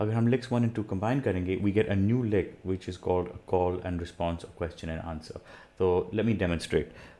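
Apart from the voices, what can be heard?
No distinct noise like a dog, phone or traffic.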